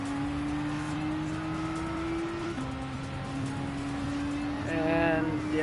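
Race car in Gran Turismo 7, a steady droning engine note holding its pitch, briefly dropping as it shifts, then climbing in a rising rev near the end, loud and continuous throughout.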